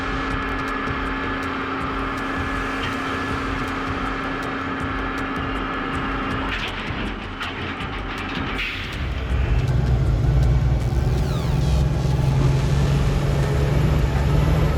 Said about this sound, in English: The truck roars powerfully